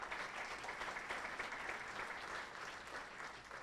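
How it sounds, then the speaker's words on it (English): An audience at a Broward College Village Square evening event applauds with steady, even clapping that stays quiet and somewhat distant, without breaks, through the whole stretch. "How about a round of applause for David Armstrong?"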